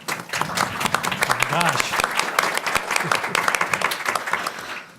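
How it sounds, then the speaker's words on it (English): Audience applause welcoming a university health president introduced as a panelist at an oncology roundtable, a loud burst of many hands clapping with a host's voice and exclamations over it. "Let's give him a round of applause"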